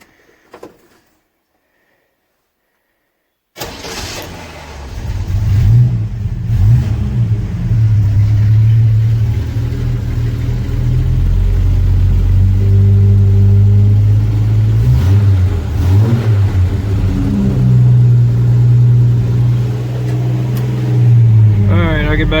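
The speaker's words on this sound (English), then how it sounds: "we're going to fire up this truck and we're going to let it sit out here and run for about 20 minutes." A Jeep truck engine cold-starts after a few seconds of near silence, then settles into a loud, steady, rumbling idle that continues to the end with slight variations in revs.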